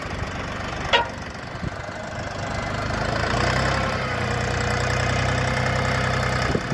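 A Dongfeng DF244G2 four-wheel-drive tractor engine runs steadily at close range with a low rumbling drone. A couple of knocks come early, and the engine swells slightly midway as the load rises.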